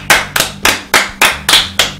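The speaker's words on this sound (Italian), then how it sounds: "Un applauso per il genio della settimana." Seven loud, evenly spaced claps or sharp hits, close and isolated, in a steady rhythm with nothing else audible.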